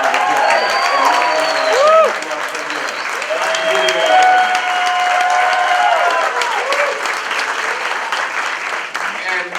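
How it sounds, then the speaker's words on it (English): An audience at a motivational live event gives a round of applause, loud sustained clapping with a few whoops, while voices talk and call out over it throughout. "And so I just give her a round of applause."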